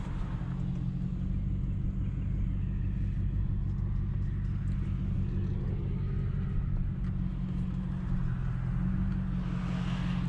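A Ford Crown Victoria or Mercury Grand Marquis V8 with an H-pipe exhaust, heard while driving: a continuous low, throaty exhaust rumble and road noise that stays steady throughout, without distinct revs.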